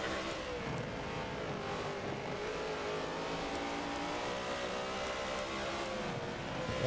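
BMW M3 GT2 race cars lapping Suzuka in a video game, engines revving and droning loudly and continuously as they pass close by, with shifting pitch through gear changes and faint commentary voices underneath.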